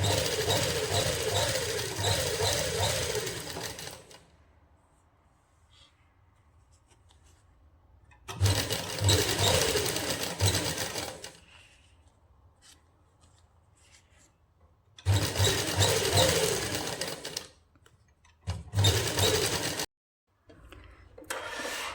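A sewing machine stitches a seam on a toddler's winter suit in three or four close bursts of fast whirring, separated by quiet pauses.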